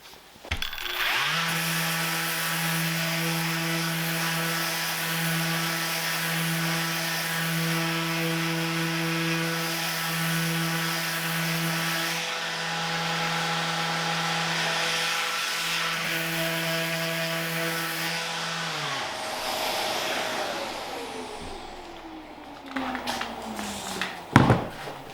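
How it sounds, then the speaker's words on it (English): Sanding a hand-cut wooden bowtie inlay produces a steady, close, whirring drone that holds for about twenty seconds, then winds down and ends in a few scattered knocks. "I'm going to hit it with a little sandpaper."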